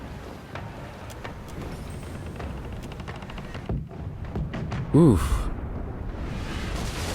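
Ship cannon fire in the game Pillars of Eternity II: Deadfire during a naval battle, muffled thuds and rumbling with one sharp loud blast near the end, while a man grunts briefly.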